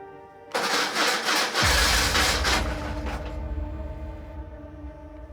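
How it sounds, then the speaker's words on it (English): BMW R1150GS motorcycle starter motor cranking loudly, a harsh grinding whir that runs steadily for a few seconds before the engine catches and settles into a low, rumbling idle. "I don't like the sound of that starter motor."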